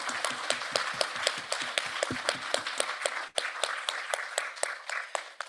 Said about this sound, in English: Would you guys clap with me?